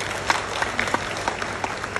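Audience clapping at a university graduation ceremony, a steady patter of many hands with a few louder individual claps standing out.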